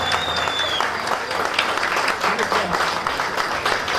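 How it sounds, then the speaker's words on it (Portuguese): Audience applause at a Viola da Terra festival in Povoação, greeting the guitarist after his introduction; a steady, dense clapping fills the room, moderately loud and continuous. "uma salva de palmas para ele."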